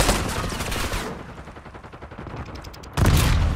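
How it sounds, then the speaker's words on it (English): Heavy burst of video-game grenade blast and gunfire noise fills the opening second, eases into a lower rumbling stretch, then a second loud explosive burst hits near the end. "that grenade really got me"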